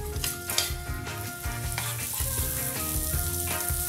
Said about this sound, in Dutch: En dan gaat die beide ui in de pan. En dan laat ik dit eventjes zo lekker fruiten.